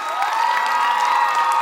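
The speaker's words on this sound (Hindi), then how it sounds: "एक बार जोरदार तालियां फिर से" Crowd at an annual dance academy show cheers loudly, with sustained shouts and whoops mixed with clapping, a brief, energetic roar close by.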